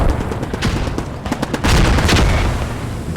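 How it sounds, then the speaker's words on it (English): A Bren light machine gun fires in a video game battle, loud rapid bursts of sharp cracks in quick succession with booming fire around them, no talking over it. "There's the Bren, beautiful sound."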